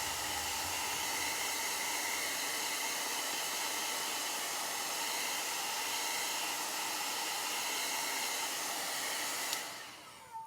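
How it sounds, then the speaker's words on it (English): Small handheld heat dryer blowing steadily over shimmer chalk paste on a craft project, a loud, even whooshing hum held close for about ten seconds before switching off with a faint click. "I'm just gonna use this little dryer to help it along"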